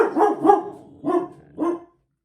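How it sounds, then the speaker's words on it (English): A household dog barks at a doorbell indoors, three loud, close barks, the first a quick double, each separated by short pauses, then it falls silent. "When the door goes and you're recording a video, the dog barks"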